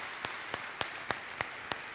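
Applause for a speaker at a pharmaceutical laboratory's product launch, heard as a thin run of about seven separate, evenly spaced claps, fairly faint over a quiet room.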